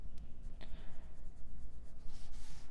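Colored pencil layering on paper while coloring a mermaid portrait, a steady soft scratchy rubbing of the lead in close, continuous back-and-forth strokes.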